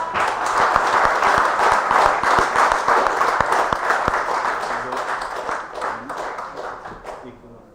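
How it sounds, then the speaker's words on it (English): A crowd applauds a competition team at the JKO UDAAN Competition 2021-22, with steady, loud clapping that holds for several seconds before thinning out toward the end, and voices mixed in underneath. "Let's give them a big applause."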